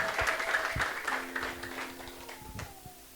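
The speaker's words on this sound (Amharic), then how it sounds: "አጨብጭቡ ለጌታ ክብር።" A church congregation claps together during a worship service, a busy wash of hand claps with a few sharper slaps, over sustained musical tones that fade slightly toward the end.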